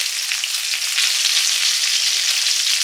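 Green mango pieces frying with panch phoron in hot oil, a loud continuous sizzle that swells slightly as it goes on, close and steady with no talking.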